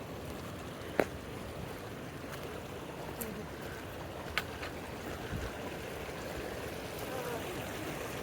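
A creek flows steadily along a boggy mountain trail below Glen Pass, a continuous close rushing wash with a few faint knocks and clicks over it.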